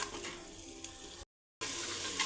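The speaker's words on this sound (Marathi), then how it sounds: "चांगला परतून घ्यायचा आहे मसाल्याला" Ground masala paste frying in about a ladle of hot oil while a rustic mutton curry is cooked in a clay pot, a steady close sizzle and crackle, broken by a brief silent cut before the frying resumes.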